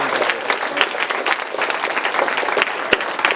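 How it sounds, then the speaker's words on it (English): A school library audience applauds a presenter at a banned books event, a dense, lively round of clapping from a sizable group that holds steady, with a few sharper claps standing out. "I think we have a round of applause for Mr."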